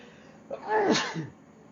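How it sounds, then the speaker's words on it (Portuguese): A single close sneeze, a short sharp burst with a brief breathy lead-in, alone against quiet. "Me perdoe que eu vou espirrar."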